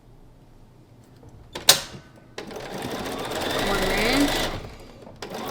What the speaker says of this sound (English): Because we're sewing these together, I'm going to sew one way and the other way.